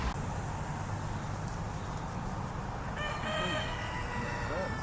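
Chickens kept on a rural property with apple trees and blackberries; a rooster crows clearly partway through, with scattered clucks over a steady outdoor background and some faint talk.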